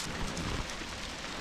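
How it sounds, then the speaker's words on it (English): Freezing rain or sleet falls steadily outdoors during a winter weather advisory, a dense, even patter and hiss that holds unbroken and moderately close, with no one speaking. "Definitely some kind of a ice, rain, snow, sleet, something."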